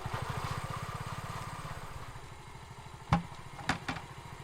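A motorcycle engine idles close by in a steady, rapid chugging rhythm, with a couple of sharp clanks near the end.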